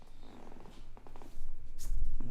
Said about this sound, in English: These cats are just beautiful.